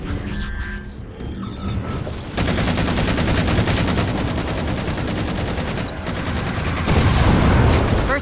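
Sustained automatic gunfire in Halo 4, aimed at jammers: a dense, loud, rattling stream of shots that grows heavier partway through and surges again near the end, with booms and mechanical clatter mixed in.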